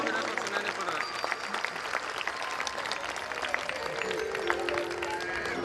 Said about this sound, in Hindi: जोरदार तालियों से इनका स्वागत करेंगे आप लोग